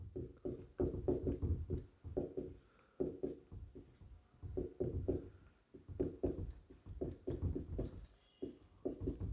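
Math steps written on a board, with rhythmic scratchy strokes in quick bursts and brief pauses, close and steady throughout, no talking.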